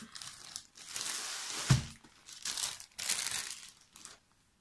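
A packaged diamond painting canvas being opened: bursts of crinkling plastic and tearing wrap, close up, in several separate handling spells with short quiet gaps between.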